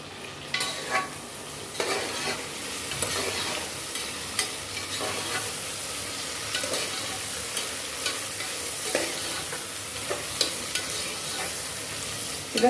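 Food sautés and sizzles in a frying pan for Tirunelveli-style ghee rice and chicken curry. A steady hiss runs throughout, broken by recurring scrapes of stirring, close and with no talk.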